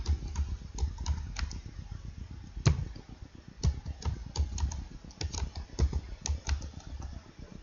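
Keys clatter on a computer keyboard in quick irregular runs of soft clicks, with a few heavier keystrokes standing out, close and moderately quiet.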